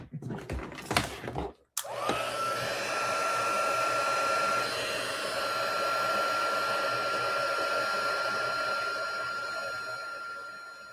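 A hair dryer or heat gun runs steadily on a craft project, switching on with a loud whir after a brief rustle and holding a constant high-pitched motor whine close by until it begins to fade near the end.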